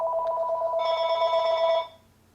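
A telephone line rings out as a call is placed to a server, a steady electronic ring tone that briefly gains a brighter upper layer before cutting off, followed by quiet hiss.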